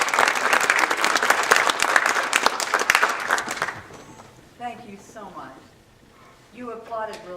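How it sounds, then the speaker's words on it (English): An audience bursts into loud, dense applause that carries on for about four seconds and then stops abruptly, followed by someone speaking. "You applauded really well."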